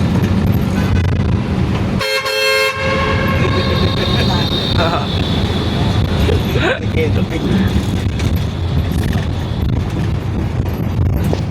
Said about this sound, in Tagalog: Ang lalakas ng busina.